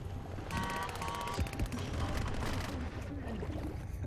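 Turret gunfire in the online shooter Depth comes as rapid, dense bursts of automatic shots over a loud wash of underwater game noise, with players talking over it.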